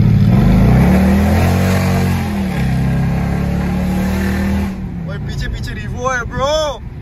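A Toyota Revo racing a Mercedes CLS500 on Margalla Road: loud engine drone and rising revs heard from inside a car, then easing off, with excited voices shouting over the noise.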